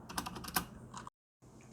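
Keystrokes clatter on an AORUS K1 mechanical keyboard with Cherry MX Red switches, loud bottom-out and top-out clacks and wobbly keycaps, a quick burst of several close presses, a brief gap, then more typing.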